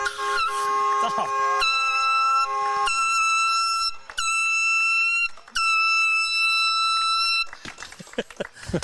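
A series of loud, tonal air horn blasts, some long and some short with brief gaps, sounding close and harsh, with a slightly wavering pitch.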